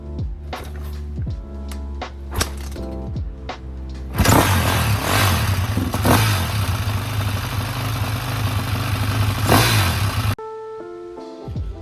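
A 2003 KTM 450SX-F four-stroke motocross bike is kicked over several times with sharp mechanical clunks, then the engine catches and runs loud and steady with blips of revving before abruptly cutting out.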